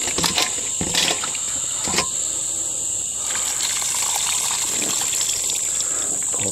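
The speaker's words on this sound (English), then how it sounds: "give them a nice rinse" Running tap water rinses four-year brine-cured olives in a container, a steady splashing trickle with occasional louder clatters and a constant high hiss throughout.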